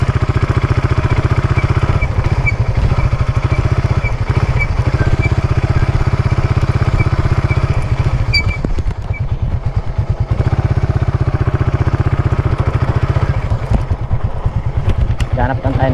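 A motorcycle engine runs steadily and loudly up close for the whole stretch, a continuous mid-pitched drone with a slight clatter, holding level with only small dips in revs.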